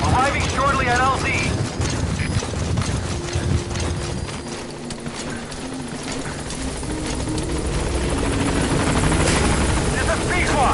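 The Pequod support helicopter arrives in Metal Gear Solid V: The Phantom Pain, loud continuous rotor thumping and turbine whine with a radio voice speaking over it and galloping hoofbeats at the start.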